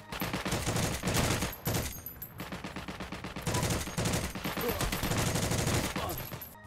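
Light machine guns fire short controlled bursts in the video game Heroes & Generals, a dense rattle of rapid shots broken by brief pauses.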